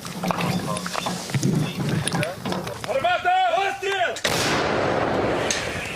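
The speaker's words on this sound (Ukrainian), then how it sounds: "Так звучить радянська гармата М46 з доволі екзотичним калібром 130 міліметрів." A Soviet M46 130 mm artillery gun firing: heavy booming blasts and rumbling detonations, loud and close, with harsh noisy crackle and a brief tonal whine partway through.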